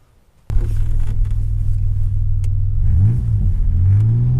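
DeLorean engine revving under throttle, a loud steady rumble that starts abruptly and climbs in pitch through several rising revs, heard close with no talking.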